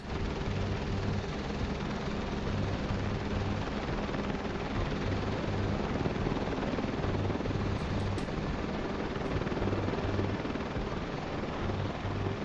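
A helicopter in Flight Simulator 2024 drones steadily with a loud, constant rotor thrum and a dense hiss of engine noise throughout, with no talking.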